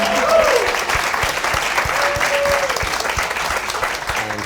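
Sustained audience applause at a panel discussion on women in comedy, steady dense clapping from a large crowd filling the room at even loudness throughout.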